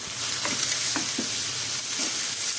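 Steady broadband sizzle of an egg frying in a hot pan, with a few soft clinks and stirring scrapes, no voices.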